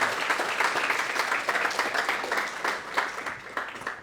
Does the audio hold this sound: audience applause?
yes